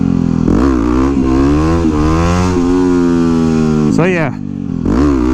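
A 2009 Yamaha WR250X supermoto engine revs and holds steady while riding, then drops and climbs sharply in a quick throttle blip before resuming; wind noise and a brief spoken voice overlay it.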